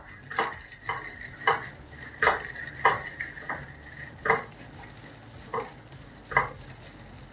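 A spoon scraping and clinking against a pan while quinoa upma with grated coconut and onion is stirred, giving irregular metallic taps over a faint sizzle.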